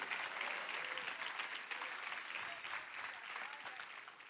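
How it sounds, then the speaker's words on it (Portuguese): A church congregation applauds to glorify God, a broad, continuous sheet of clapping heard somewhat distant and soft, holding steady before easing slightly. "Se é para aplaudir, aplauda glorificando a Deus, exaltando o nome dEle."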